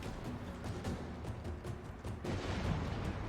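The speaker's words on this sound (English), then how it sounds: "let's hope that my catapults are gonna start to fire" Catapults firing during a siege in Total War: Warhammer 2, heard as a steady wash of battle noise with repeated thuds and booms spread across the scene, moderately loud and continuous.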